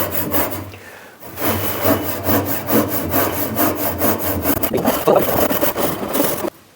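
A hand saw cuts a wooden tenon for a traditional Korean lattice window frame in steady back-and-forth rasping strokes, close and loud, with a brief pause near the start.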